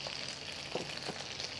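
Onions frying in olive oil and bacon fat in a pan, giving a steady close sizzle with a couple of soft stirring bumps.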